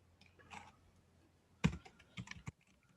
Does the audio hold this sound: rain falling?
no